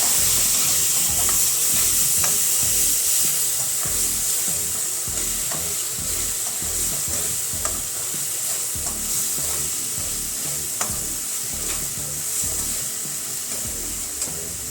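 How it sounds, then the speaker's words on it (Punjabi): A spice tempering with garam masala fries in oil, making a dense continuous sizzle with a bright steamy hiss and occasional stirring knocks, close and fairly loud with no voices. "ਤੜਕਾ ਬਹੁਤ ਵਧੀਆ ਭੁੱਜ ਕੇ ਤਿਆਰ ਹੋ ਗਿਆ"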